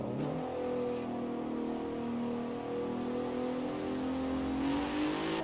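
A car engine drones and revs steadily in Forza Horizon 4, a sustained loud mechanical hum rising gradually in pitch with a faint whir over it, without pauses.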